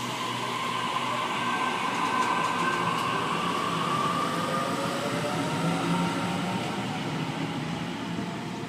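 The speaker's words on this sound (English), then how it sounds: "Waratah A29 about to depart platform 2 for a town hall via Revesby service." A Sydney Trains Waratah set pulling out of platform 2 at Glenfield, with a steady rumble of rolling stock and a rising motor whine as it moves off, fairly close and unbroken.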